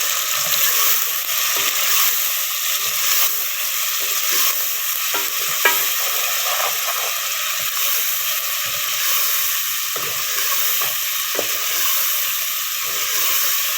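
Okra and onion fry in a pan with spices, a loud, steady sizzle with constant stirring and scraping throughout, close up.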